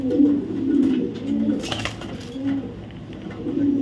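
Young black racing homer pigeons coo in repeated low, throaty phrases, close and fairly loud, with a brief rustle partway through.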